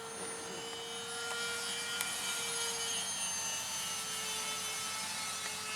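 A 1/13 scale radio-controlled Bomarc missile model, a propjet, flies over an airfield, its steady high-pitched turbine whine continuous and fairly loud with a faint shifting tone as it passes, no voices.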